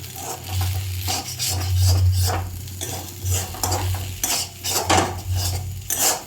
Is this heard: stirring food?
yes